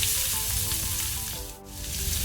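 Sliced onion and green chillies fry in a hot pan, giving a close, steady hiss and crackle that dips briefly midway before building again, with no talking.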